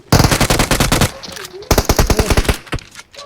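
Two loud, close bursts of automatic gunfire in the PUBG Mobile video game, each a rapid run of sharp shots, separated by a short pause, with a few trailing shots at the end.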